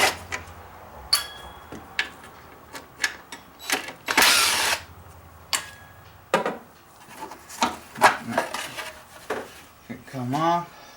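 Someone pulls the plastic engine beauty cover off a first-generation Ford Explorer 4.6 V8: scattered clicks, knocks and clattering thuds, one longer scraping rattle, and a brief voice near the end.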